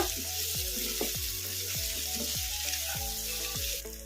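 Carrot chutney ingredients frying in a pan on a medium flame, a steady close sizzle with repeated scraping stirs at regular intervals and a low stove hum underneath.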